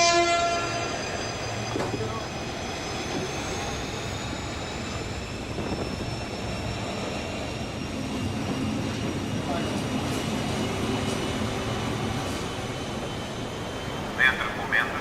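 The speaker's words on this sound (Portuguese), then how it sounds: "we say goodbye to our RTP Portuguese train friends and the newly renovated Sud Express" The newly renovated Sud Express passenger train at a Portuguese station, a steady broad rumble of rolling cars with long sustained horn or brake tones held across the whole stretch, heard alone without talk.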